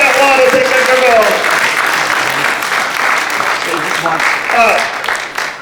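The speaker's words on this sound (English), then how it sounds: "Give him a big round of applause" Audience applause for a volunteer named Tony at a comic magician's stand-up show, loud sustained clapping with a voice talking over it near the start and again near the end.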